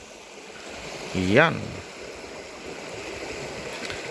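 Shallow river water flows in a steady, close rushing wash that lasts throughout, with a single short spoken word cutting in briefly near the middle.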